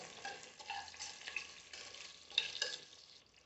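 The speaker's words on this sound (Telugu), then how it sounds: "అర స్పూన్ ధనియాలు అర స్పూన్ జీలకర్ర వేసుకొని ఒకసారి వాటిని ఫ్రై అవ్వనివ్వండి" Half a spoon each of coriander and cumin seeds frying in a pan for a goat head curry, a faint, soft sizzle with light stirring scrapes and a small clink, heard alone.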